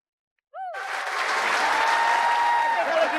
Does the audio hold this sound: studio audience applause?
yes